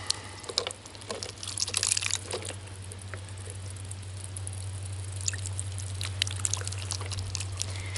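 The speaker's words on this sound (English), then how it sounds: "if you invert the nozzle, you can drain a little bit of the water out a little bit at a time." Water trickling and dripping from the inverted bottle nozzle of a survival minnow trap, irregular small splashes over a steady low hum, quiet and close.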